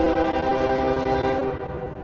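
A train passes near the Susquehanna River, its horn blaring loud and sustained with layered tones over a low rumble of the rails for two seconds.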